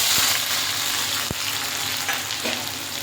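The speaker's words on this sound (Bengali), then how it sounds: "এখানে গোটা গরম মশলা দিয়ে দিলাম এখানে তেজপাতা দেবো না শুকনো লঙ্কাও দেবো না এখানে শুধু পেঁয়াজ দেবো" Whole garam masala and onions sizzle in hot oil in a pan for a Bengali chicken curry, a steady loud frying hiss with a few sharp spoon knocks as they are stirred, close and without talking.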